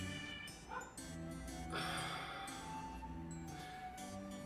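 A dog barks and yips in the background indoors, several short, faint barks scattered over a few seconds beneath other quiet sounds.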